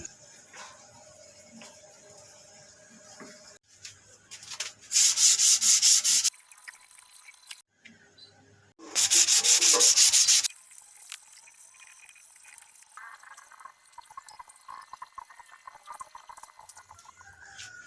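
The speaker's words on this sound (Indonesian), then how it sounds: "Untuk bagian sabuk tetap harus diamplas walaupun tidak didempul, menggunakan amplas dengan grade 400" Two loud bursts of hand sanding a bird cage with 400-grit sandpaper, each a couple of seconds of harsh, rapid scratching up close, separated by quieter rustling and faint background clucks.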